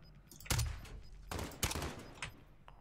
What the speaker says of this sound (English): I shot him because I have a silencer